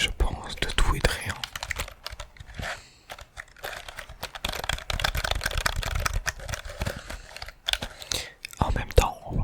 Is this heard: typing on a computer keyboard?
yes